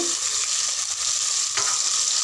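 Green chilli and onion paste sizzling in hot oil in a pan while being stirred, a continuous crackling fry with a brief scrape of the spoon.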